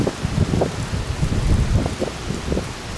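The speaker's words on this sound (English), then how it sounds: "the wind's really picking up" Strong outdoor wind gusting in a steady, noisy rush with low buffeting, close and fairly loud, with no voices.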